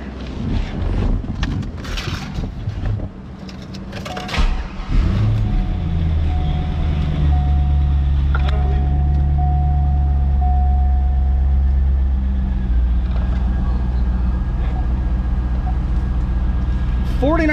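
A 2002 Chevrolet Corvette Z06 with an LS6 V8 and OEM titanium exhaust cranks and catches after some handling noise, then settles into a loud, steady, deep idle with a whining tone overhead. A voice talks near the start.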